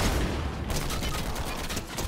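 Shotgun fire in the Fortnite video game, a dense crackling burst of gunfire in the opening moment followed by a sustained noisy rattle of battle sounds throughout.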